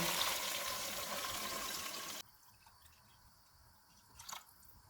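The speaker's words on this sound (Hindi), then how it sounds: "सात गिलास पानी डालेंगे।" Seven glasses of water pour steadily into a pot of Kashmiri chicken pulao with a soft, hissing splash, then stop abruptly, leaving a faint clink.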